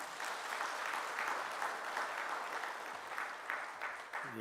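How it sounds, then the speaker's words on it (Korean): A church congregation gives welcoming applause during a Sunday service, a steady, soft, distant patter of clapping that fills the hall without any break. "환영의 박수하겠습니다."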